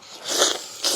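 Crunchy food bitten and chewed up close during an eating session, giving a quick series of crisp cracking crunches with no talk.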